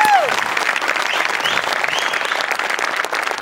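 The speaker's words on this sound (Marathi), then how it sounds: "एकदा जोरदार टाळ्या माझ्यासाठी झाल्या पाहिजेत." Studio audience at a Marathi comedy show clapping loudly, dense steady applause filling the whole stretch with crowd noise underneath.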